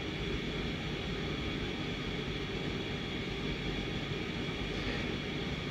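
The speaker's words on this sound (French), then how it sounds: "c'est pas des camions, c'est le bruit de l'ordinateur que vous entendez" Computer noise caught by a microphone: a steady, loud broadband roar like passing trucks, holding constant with no pauses and no voices.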